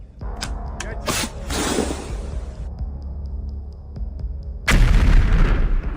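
Javelin missile fired at a tank near a tree line in a combat zone: a sharp report followed by a broad whooshing rush, distant thuds, then a loud sustained roaring blast at the end, with no talk.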